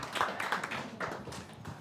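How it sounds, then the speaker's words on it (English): An audience at a university election question time gives a short round of applause, a soft, distant patter of many hands clapping. "Please, a round of applause for Alexandra and Clinton."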